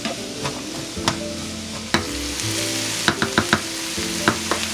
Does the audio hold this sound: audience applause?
no